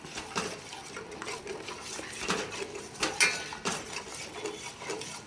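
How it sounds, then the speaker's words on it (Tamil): Beaten eggs, five of them, stirred in a pan for chicken fried rice, with repeated scraping and clinking of a utensil against the metal, moderately close and irregular, with no talking. "இனி இது வந்து நல்லா கிண்டி எடுக்கணும்."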